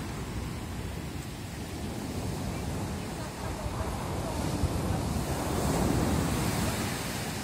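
Sea waves roll onto Antalya beach with the water running far up the sand, a steady, loud broadband wash of surf mixed with gusting wind noise on the microphone, with no voices.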